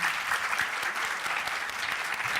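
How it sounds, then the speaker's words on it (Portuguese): An audience at a business talk gives steady, dense applause throughout, a continuous wash of many hands clapping at a moderate distance. "Palmas para cada um."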